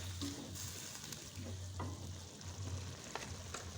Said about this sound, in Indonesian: Kalau sudah mendidih seperti ini